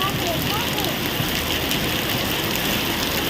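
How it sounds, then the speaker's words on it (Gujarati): Heavy monsoon rain pouring down in a Botad village, a dense, unbroken roar of water that stays loud and steady from start to finish. "વધવા માંડી ગયો વરસાદ"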